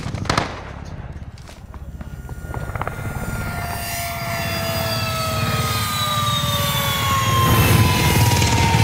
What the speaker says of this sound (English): Friendly support helo inbound.